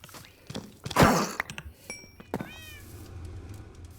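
In a Minecraft modpack, a cat gives a couple of short meows after a loud thunk and some clattering, followed by a faint rising chime, with quieter background sound trailing off.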